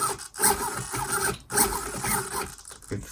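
An RC car steering servo, checked on a Sanwa MT-S radio, whirs in quick buzzing sweeps back and forth, close and moderately loud, with short pauses between movements.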